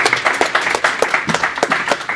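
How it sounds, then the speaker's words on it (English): An audience at a small-business panel talk claps for the panelists, dense close applause running steadily without a break for a couple of seconds. "Big round of applause."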